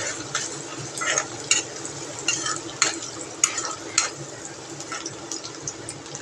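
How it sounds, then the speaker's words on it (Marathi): Chopped onion frying in oil in a pan, a bright steady sizzle broken by repeated scraping bursts as it is stirred, close and fairly loud, with no voices. "थोडासा कांदा गुलाबी रंगावर फ्राय झाल्यानंतर आपण त्याच्यामध्ये कढीपत्ता घालणार आहोत"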